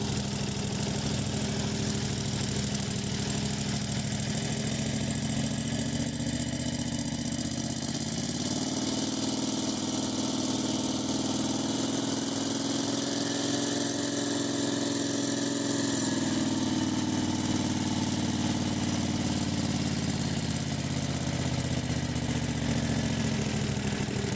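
A homemade buggy engine runs steadily for the whole stretch, a loud, constant mid-pitched drone that rises and falls slightly as the throttle changes and settles back toward idle, with no talking.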